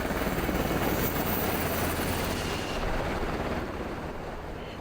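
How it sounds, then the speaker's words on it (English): A Border Patrol helicopter passes low over the Rio Grande, its rotor roar loud, steady and broadband throughout, easing slightly toward the end as it moves off. "a Border Patrol helicopter sweeping low over the Rio Grande"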